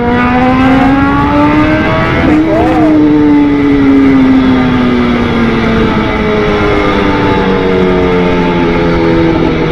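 A BMW S1000RR sport bike ridden hard in full mode climbs through the gears at speed, its loud engine rising in pitch, briefly dipping at a shift, then a steady high whine over wind noise, with no talking.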